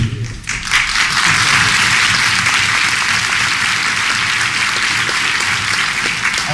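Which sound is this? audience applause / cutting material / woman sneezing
audience applause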